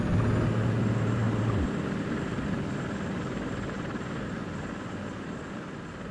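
A helicopter taking off in the video game Comanche 3 Gold, a steady loud rotor and engine roar that holds throughout, with a low tone fading out early on, no voices.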